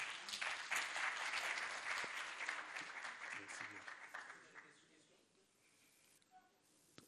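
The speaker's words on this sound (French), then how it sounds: "On l'acclame très fort, s'il vous plaît." Conference audience applauding strongly, a dense wash of clapping that holds for about four seconds, then thins and fades into quiet room tone, with voices faintly underneath.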